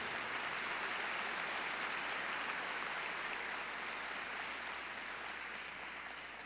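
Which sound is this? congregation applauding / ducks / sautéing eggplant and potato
congregation applauding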